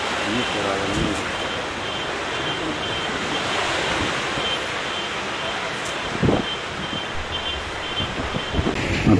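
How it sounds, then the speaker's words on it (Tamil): Strong wind from a mini cyclone in Colombo roars continuously, a loud broadband rush with gusty buffeting against the microphone and a few brief knocks, like heavy surf. "கொழும்பில் ஏற்பட்ட மினி சூறாவளி பார்த்து கொண்டிருக்கும் காணொளி"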